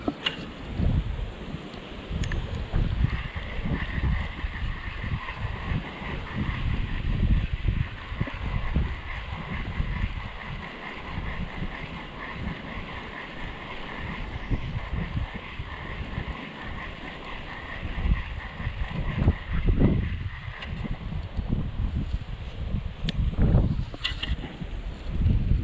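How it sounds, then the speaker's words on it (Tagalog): Strong wind sweeps over open water during fishing, a constant low roar against the microphone with faint lapping, lasting around twenty-five seconds without talk. "Grabe hangin."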